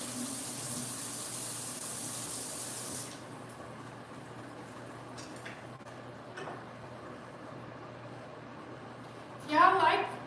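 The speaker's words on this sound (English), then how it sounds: "let me check these noodles because they're probably ready to be drained" Cooked noodles are drained into a sink, with a loud rush of pouring water for about three seconds before it drops to a quieter background with some clinks and a voice near the end.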